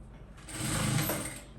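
A sewing machine runs close by in one short burst, stitching the side seams of a stretchy cowl neck blouse, its motor whir rising and then easing off.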